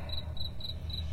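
Crickets chirping in regular pulsed bursts, about four trills in quick succession, steady and fairly close over a low background hum, with no voices.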